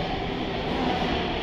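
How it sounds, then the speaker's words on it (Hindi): A Delhi metro train arrives at the station, a loud, steady broadband rumble and roar of wheels and motors filling the space without pause, close and dominant. "हमारी मेट्रो आ गई है"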